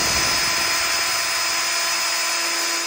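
A 7.5mm drill bit bores into a part during work on a Yamaha RD250 engine rebuild, producing a loud, continuous, steady whine with a constant pitch and no pauses.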